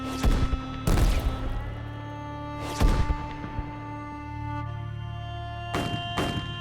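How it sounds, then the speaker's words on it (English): Artillery shells landing on a Civil War battlefield at Gettysburg, five heavy booming impacts spaced irregularly over a sustained low musical drone. "Suddenly, shells start bounding in from the north"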